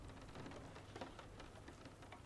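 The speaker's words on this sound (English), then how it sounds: "the rain hasn't stopped for 3 days" Steady rain falls as a soft, even hiss with faint scattered drops, quiet and continuous throughout with no voices.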